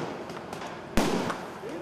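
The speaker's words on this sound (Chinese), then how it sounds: "大白天的校园里，烟火鞭炮四处乱窜" Fireworks and firecrackers go off during a daytime student protest on a university campus in Ankara: one sharp, loud bang with a rumbling tail stands out over fainter scattered pops and murmuring voices.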